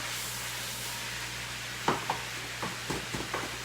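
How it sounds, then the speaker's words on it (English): Ground beef and venison are stirred together in a hot pan, giving a steady low sizzle with a few sharp scraping stirs of the utensil toward the end, heard alone without talk. "I'm trying to mix the beef and the venison together"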